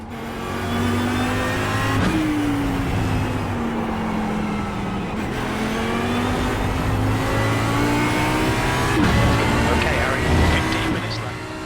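Race car engines roar through an iRacing video game race, a loud, steady engine drone with rising and falling pitch as cars shift and accelerate, a McLaren among the field; a commentator talks over it.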